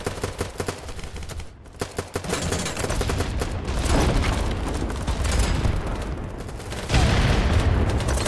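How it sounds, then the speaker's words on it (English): Dense gunfire crackles in a rapid fusillade in the video game Battlebit, with a loud booming explosion swelling in and heavy shooting continuing throughout, loud and close. "That's a big explosion."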